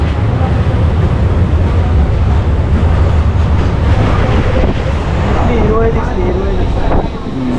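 A Vasai–Panvel MEMU train rumbles steadily along the rails with a constant low roar and faint clatter, loud and close throughout, with voices faintly in the background.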